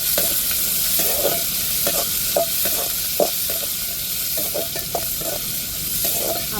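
Onions sautéing with salt in a pan, a steady sizzle with scraping stirring strokes at an uneven rhythm, close up and fairly loud, with no voices.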